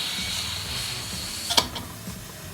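A steady steam hiss from a pressure cooker vent runs throughout, broken by a brief sharp clatter partway through, then the hiss continues more softly.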